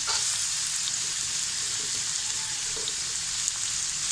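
Green capsicum frying over high heat in a pan for a chicken noodle and pasta mix, a dense steady sizzle with faint stirring taps, close and continuous with no voices.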